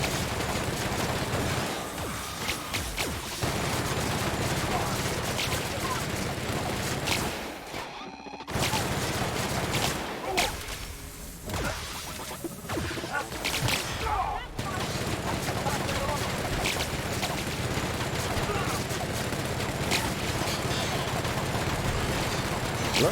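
Sustained, dense gunfire in The Outer Worlds on PC, with loud overlapping shots and bursts that briefly drop out twice, blending into other chaotic combat noise.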